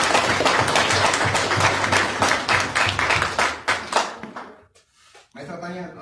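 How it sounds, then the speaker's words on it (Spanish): Loud, dense applause fills a university lecture hall as a speaker is welcomed to a conference on the Paris Commune, steady for about four seconds before thinning out, followed by a voice speaking. "Con un fuerte aplauso, compañeros"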